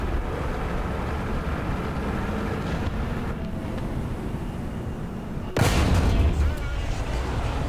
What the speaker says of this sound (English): As you can see, I had easily blown up a Panther tank, and its turret flew off in an arc.